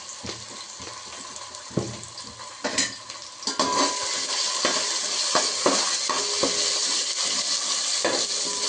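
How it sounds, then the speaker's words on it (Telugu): Ginger garlic paste sizzles and fries steadily in hot oil in a pan while being stirred, with scraping clinks of a spoon against the pan over a continuous close crackle. "ఇది కొంచెం ఆయిల్లో ఉడకాలి అల్లం వెల్లుల్లి పేస్ట్."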